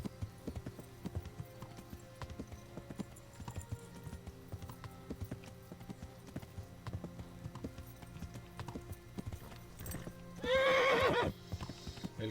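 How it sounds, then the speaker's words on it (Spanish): A horse in a video game gallops with rapid, steady hoofbeats for several seconds, then lets out one loud neigh near the end, heard on its own without talk. "El caballo lo voy a tener que cambiar."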